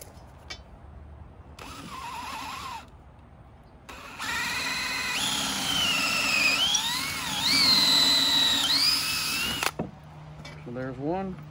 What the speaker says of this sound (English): And then I will drill this other one.